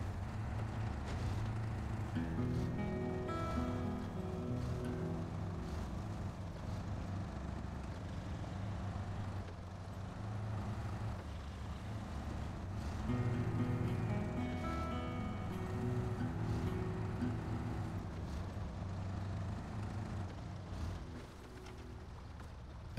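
Truck engine idling and rumbling in a driving video game, a steady low drone that holds for the whole stretch with slight swells in loudness, and no talking.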